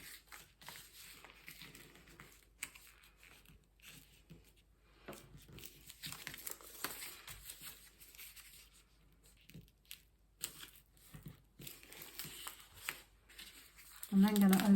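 Sketchbook paper is folded in half, with intermittent crinkling, rubbing and creasing sounds close by between stretches of a person talking.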